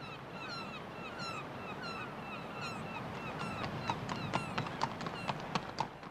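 Horse hooves clip-clopping during riding, a quick run of sharp, regular hoof strikes growing clearer toward the end, with bird-like calls earlier and a steady background wash.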